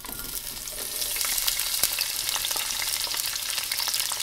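Onions frying in hot oil for a home-cooked chicken cacciatore give off a steady close hiss of sizzle, with faint crackles and light stirring clicks and no voices.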